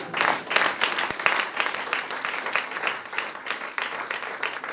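A church congregation applauds the Lord, steady sustained clapping from a crowd filling the room, rising and falling slightly in intensity throughout.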